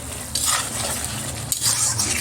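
Hilsa fish pieces being stirred as they fry in a pan, a close hissing sizzle swelling with each turn of the spatula and a soft scrape midway, without voices.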